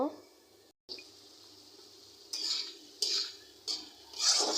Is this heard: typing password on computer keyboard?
no